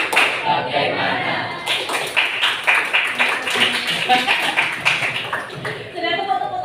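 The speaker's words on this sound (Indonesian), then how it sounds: "Sudah tepuk-tepuk tangan, sudah lebih semangat dong." Students in a classroom clap their hands in loose, uneven bursts of sharp slaps close by, with a few distinct individual claps, while a teacher's voice talks throughout.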